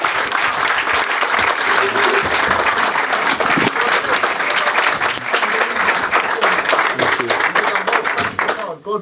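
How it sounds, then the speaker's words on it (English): Loud, sustained applause from an audience celebrating boxer Conor Benn, dense clapping filling the whole stretch before cutting off abruptly at the end, with voices mixed into the crowd noise. "round of applause for Conor Benn"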